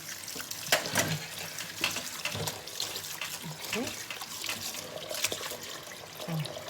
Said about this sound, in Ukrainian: Отак я промиваю капусту